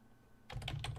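Computer keyboard typing starts abruptly halfway through, a quick run of close, crisp key clicks following near silence.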